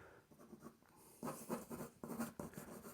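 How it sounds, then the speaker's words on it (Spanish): A charcoal stick scratches and rubs across paper while shading a face, with soft repeated strokes that grow louder and rougher midway, close up and without talk. "Lo trabajo como un lápiz común y corriente, pero va oscureciendo ciertas partes con cierta precisión"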